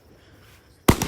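Fireworks set off at night: after near silence, a single sharp, loud blast bursts in close by, trailed by brief crackling as it fades.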